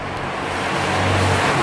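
A car passes along a road, its steady rushing tire and engine noise swelling gradually louder at moderate distance, with no talking over it.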